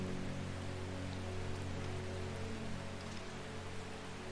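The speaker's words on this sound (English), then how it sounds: "We're having a rainy exploration day. It's storming and we're marching all around." Steady rain and storm ambience from the game Strange Horticulture, a continuous wash of falling rain with a low hum beneath, even and unbroken throughout.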